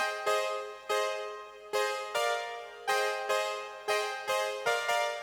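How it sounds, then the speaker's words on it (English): A Marion Pro synth layer adds sparkle and brightness to a piano sound, playing bright sustained harmonic chords struck in a steady rhythm, about ten attacks, each decaying before the next, alone with no talking. "Then I have a Marion Pro synth, and that sounds like this."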